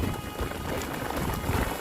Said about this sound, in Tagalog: Ayan mga ka-taker, malakas ng ulan, no?